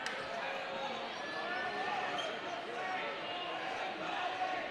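A home crowd at a boys high school basketball game between Roseburg and the Grants Pass Cavemen fills a gym with a steady, dense roar of jeering voices, a sustained wash of noise with no breaks.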